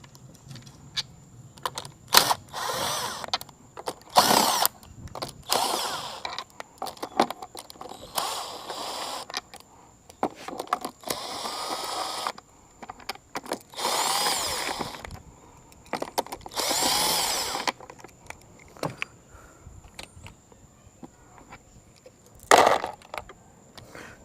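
A power tool whirs in repeated short and longer bursts, loud and close, removing bolts from a 2000 Johnson 115hp outboard motor during a stator replacement, with ratcheting clicks and handling noises between runs.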